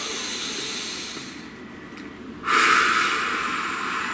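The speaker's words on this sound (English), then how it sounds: "Please take a nice deep breath." A single deep breath taken close to the microphone during a calm guided meditation: a soft lull, then a sudden rushing hiss of air that slowly fades.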